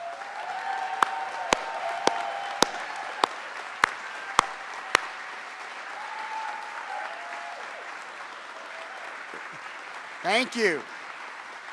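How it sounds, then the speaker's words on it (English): Applause for a climate action team at a Maryland executive order signing on climate pollution, a sustained crowd clapping across the whole stretch under a speaking voice, with a few sharp taps early on and a brief swell near the end. "round of applause."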